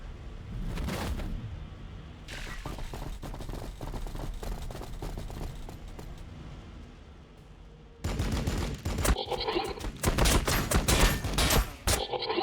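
Long-range gunfire in a Warhammer 40K battle between Necrons and Blood Angels, with dense rapid volleys and crackling bursts that grow louder and busier toward the end.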